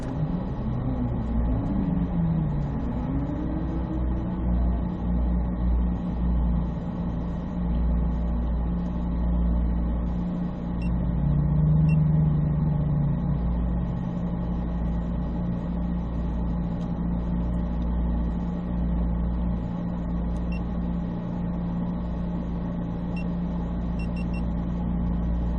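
A Chevrolet Corvette C8 Z06 runs an autocross course, its engine rising and falling in pitch early on, then settling into a loud, continuous mid-range roar heard from onboard.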